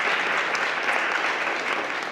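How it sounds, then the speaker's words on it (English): Audience applause at a mayor's book club fireside chat, a steady dense wash of many hands clapping that holds evenly throughout without pause. "So yes, I saw some ready hand claps."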